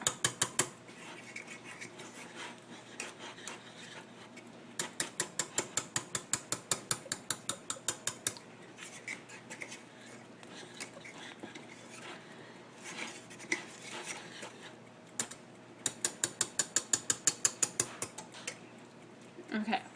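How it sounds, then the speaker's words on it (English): A metal whisk beats flour into a cooking pan in rapid bursts of rhythmic clicking against the metal, separated by quieter stirring, close and clear. "You want to whisk it in there and cook it for a little bit"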